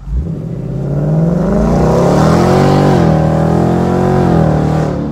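A 2019 Ford Mustang GT engine revs up and holds a loud, rising growl, pitch climbing and dipping slightly over several seconds, close by with no voices.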